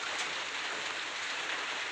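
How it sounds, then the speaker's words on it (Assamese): Heavy rain pouring down outdoors during a motorbike journey in Assam, a dense, even hiss of countless drops drumming on surfaces, loud and continuous with no voices. "আহি গ'ল ফাটাফাটি বৰষুণ।"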